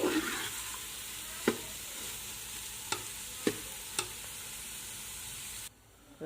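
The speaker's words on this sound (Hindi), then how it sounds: "ड्राई फ्रूट को अच्छी तरह मिक्स कर लेना है।" Carrot halwa being stirred with dry fruits mixed in, a soft continuous sizzle under several distinct spoon clinks against the pan, close by, before the sound cuts away near the end.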